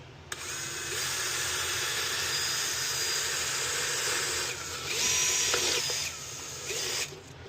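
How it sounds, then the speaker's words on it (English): A power drill whirs continuously at high speed for several seconds, briefly changing pitch as it bites through material drilling a hole, then stops. "We're just going to take and drill 2 holes in this."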